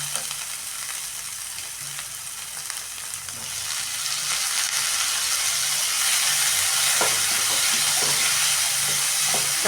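Tomato frying in oil with okra and egg, a bright continuous sizzle that swells louder partway through as the pan heats, with occasional stirring taps, close and without speech.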